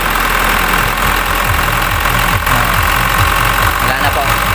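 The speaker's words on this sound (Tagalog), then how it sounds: "talagang nagpapalag-palag yung makina pag tinasan yung idle" An Isuzu 4HL1 diesel engine idles roughly with a dirty injector problem, a loud, steady low rumble with uneven knocking pulses running throughout, close up and continuous.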